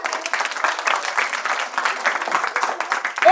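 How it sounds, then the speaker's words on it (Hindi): Children clapping together during a library storytelling session, a brisk, steady patter of many small hands sustained throughout at moderate loudness, with no talk over it. "तमाम जानवरों और परिंदों और कीड़े मकोड़ों ने तालियां बजाई"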